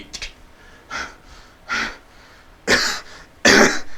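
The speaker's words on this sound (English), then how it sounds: "he begins to cough" A handful of separate coughs, growing louder and harsher toward the end, with short quiet gaps between them and no talking.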